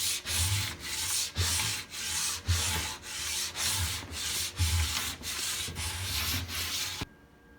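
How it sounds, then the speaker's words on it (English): A snowboard base is scraped after waxing with steady, rhythmic back-and-forth strokes, each a close, rough rubbing rasp. The strokes repeat for several seconds and then stop abruptly. "now that the board is fully waxed and scraped down"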